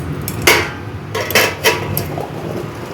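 A metal lid clanks and scrapes as it is lifted off a pot of hilsa steamed with mustard and poppy seed on an induction cooker, with several sharp clinks close by.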